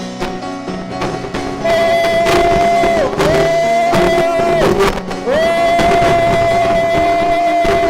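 A church congregation loudly acclaiming the Lord, a dense roar of voices over loud music with sustained sung tones.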